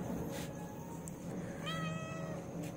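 A pet cat held in someone's arms at home gives a clear, drawn-out meow partway through, with faint shorter mews around it against a quiet room background.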